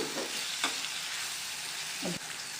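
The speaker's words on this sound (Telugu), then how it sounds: "ఇప్పుడు ఈ ఎండి చేప ముక్కలు వేసుకోవాలండి వేసుకుని కొద్దిగా ఫ్రై చేసుకోవాలి" Dried fish pieces fry with onions in a pan, a soft, continuous sizzle marked by a couple of light stirring scrapes and clicks, without any speech.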